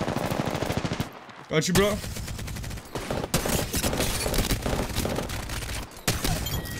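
Rapid sustained automatic fire from a Devotion LMG in the Apex Legends video game, loud dense bursts with a brief gap, game effects mixed in and a player talking over it.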